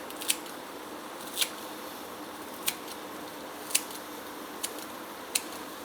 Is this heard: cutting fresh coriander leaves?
yes